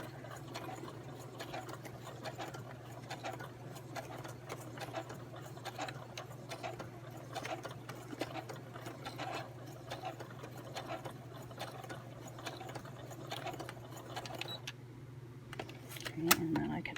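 A sewing machine runs slowly around a curve in paper envelope crafting, a steady low motor hum with faint stitching ticks throughout, and a brief louder clatter near the end.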